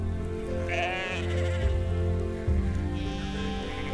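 Sheep bleat several times with wavering, drawn-out cries against a steady background of outdoor noise while sheepdogs work the flock.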